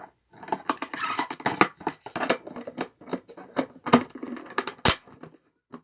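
Scissors cut and crinkle through plastic film packaging of a storage container, a busy run of close, loud snips and rustling crackles with no talking.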